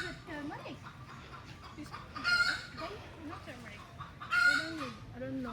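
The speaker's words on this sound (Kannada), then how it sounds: "ಎಲ್ಲೋ ಕೋಳಿ ಬೇರೆ ಕೂಗ್ತಾ ಇದೆ" A rooster crows twice in drawn-out calls near a home in Bali, with other chickens clucking around it while people talk over the sounds.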